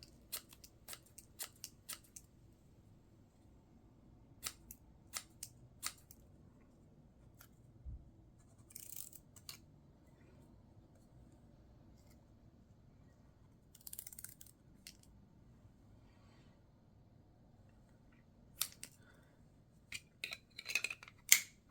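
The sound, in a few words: Engineer brand scissors cutting paper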